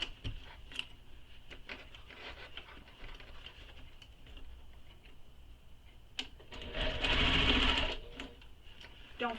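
A sewing machine stitches a handbag. Short bursts of stitching are interspersed with handling noises, and a louder sustained run near the end. The sound is close, with no talk.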